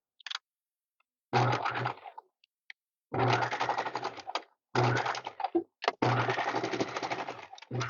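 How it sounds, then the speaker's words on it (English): A sewing machine stitches a handle onto a DIY packing cube in several rapid whirring runs separated by brief pauses, close and steady, with short bursts of needle chatter between. "Sew that in a couple of times."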